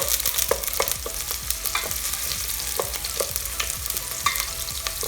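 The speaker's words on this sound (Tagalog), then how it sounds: "Ang ating onion at saka garlic ay ating igisa muna." Sliced garlic and onion sauté in a hot pan for chicken curry. The sizzle is loud and continuous, with frequent sharp spatula taps and scrapes close by.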